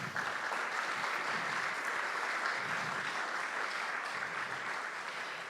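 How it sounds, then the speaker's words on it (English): Steady round of applause from an audience at a music program, a continuous dense patter of many hands held at an even, moderate level throughout, somewhat distant. "let's give all those folks a round of applause"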